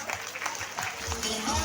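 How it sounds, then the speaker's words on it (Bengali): Applause at a school annual function magic show, where an audience gives scattered, moderately loud clapping mixed with voices talking. "সিদ্ধার্থ বাবুর জন্য একটু জোরে হাততালি।"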